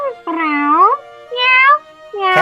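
Cartoonish cat meowing in the video game Professor Layton and The Lost Future, three loud close meows in a row with short gaps between them, the last one cut off.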